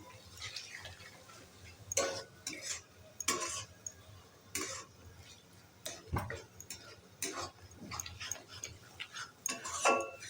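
Egg with a little salt being whisked in a bowl, heard as bursts of fast clinking and tapping strokes with short pauses between them, fairly close.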